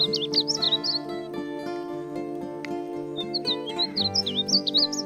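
A North American songbird of the cardinal family sings clear, slurred whistled phrases in two bursts, heard over a sustained instrumental music bed.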